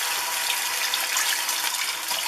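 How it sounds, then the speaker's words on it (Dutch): Water poured from a container into a pan of browned, seared meat, a steady bright gushing splash that runs continuously, close and loud, with no voices. "Daar voegen we nu de vocht toe."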